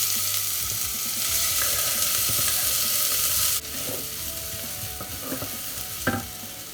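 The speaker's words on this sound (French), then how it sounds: "je vais les remplacer par mon oignon et mon échalote que je vais faire revenir gentiment dans le beurre" Onion and shallot sautéing gently in butter, a dense, steady hiss of frying with occasional stirring knocks, close up; the sizzle drops a little in level partway through and continues.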